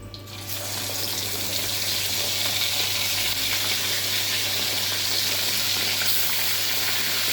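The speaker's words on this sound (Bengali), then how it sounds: "এইভাবে আমি সব মাছগুলো ভেজে নেব।" Pieces of rohu fish frying in hot oil make a loud, dense, continuous sizzle that starts abruptly and holds steady and close throughout, with no talking over it.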